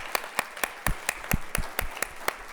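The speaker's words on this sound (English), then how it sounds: "I got to give a big round of applause to the band myself" An audience claps in steady applause for a band at a jazz and poetry night, the sharp hand claps loud and regular, close and without talk.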